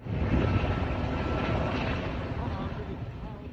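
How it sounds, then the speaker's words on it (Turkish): A Sikorsky utility helicopter of the gendarmerie, fitted with a water bucket to fight forest fires near Milas, gives a steady, loud, broadband rotor and engine roar throughout, fading slightly toward the end. "genel maksat helikopteri Skorskiler bu kez orman yangınlarını söndürmek için sahada"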